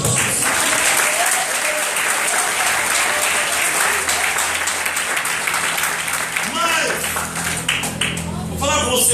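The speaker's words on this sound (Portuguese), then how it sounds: "Mas em palmas para Jesus." A church congregation claps loudly and steadily together during a worship service, with voices and music mixed in beneath the applause throughout.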